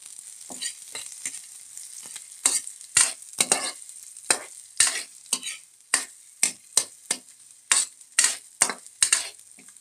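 Garlic frying in a pan for a rural papaya dish, with a rapid series of sharp scraping stir strokes over a bright sizzle, close and fairly loud, the rhythm quickening toward the end.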